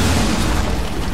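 A breach charge explodes in the Rainbow Six Siege video game: a single loud, close, deep boom that fills the whole short moment and fades slightly at the end.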